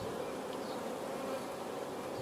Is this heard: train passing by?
no